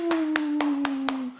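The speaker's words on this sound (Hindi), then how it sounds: "तालियां" Five sharp, evenly spaced claps ring out over a steady low tone, close and distinct, with no voices around them.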